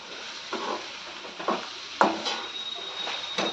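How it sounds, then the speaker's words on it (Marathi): Spoon scraping and stirring masala frying in oil in a pan for moth bean dal, a few distinct clinks and scrapes at irregular intervals over a faint sizzle. "चांगला परतवून घेते हा मसाला आता मसाला परत द्यायला थोडं थोडं तेल सुटायला लागलंय"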